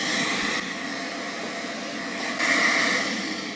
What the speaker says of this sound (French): Si vous avez un aspirateur à main comme ça, on passe un petit coup ici.